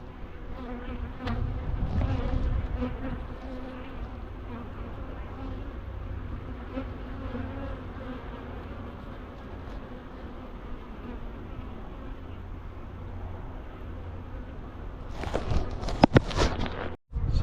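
Honeybees drone and buzz continuously around an open hive during an April farm apiary inspection, a dense close swarm hum with brief sharp knocks of frames near the end.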